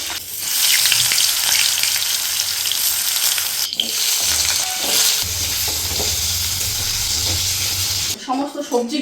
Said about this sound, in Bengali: সবজিগুলো আমি এখানে ভেজে তুলে নিই